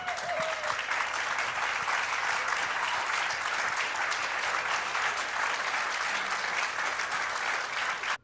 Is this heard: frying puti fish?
no